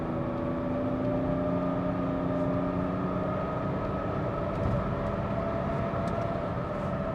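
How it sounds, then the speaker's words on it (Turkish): Inside a BMW E39 530d with its diesel engine under acceleration: a steady, fairly loud droning hum with layered tones rising slightly, continuous road and engine rumble beneath, no talking. "oldukça güzel bir motor sesi geliyor."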